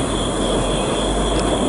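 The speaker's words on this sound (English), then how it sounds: "there's a train right by the tracks." A train passes on nearby railroad tracks, a steady broadband rumble and rolling roar that holds level throughout the short stretch, with no voices.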